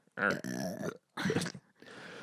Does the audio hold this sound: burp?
yes